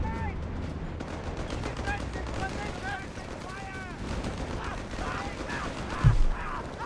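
Machine-gun fire in the Company of Heroes 3 video game rattles in quick bursts at moderate volume beneath an ongoing commentator's voice, with a sharper thump near the end.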